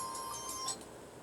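A phone rings with a bright electronic ringtone, short repeating high chiming tones heard clearly, with no talk during the ring.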